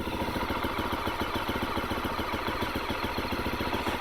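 A 2021 KTM 350 EXC-F dirt bike idles at around 1750 rpm while still cold, its engine producing a steady, rapid mechanical pulse with a faint whine, close and even throughout.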